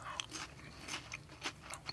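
Crisp, close bites and crunches on a Cheez-It cheddar cracker, several sharp snaps over about two seconds with no talking.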